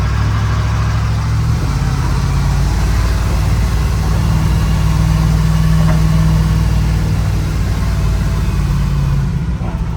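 An excavator's diesel engine running steadily nearby, a loud continuous low rumble with a deep droning hum that holds throughout, with no talk.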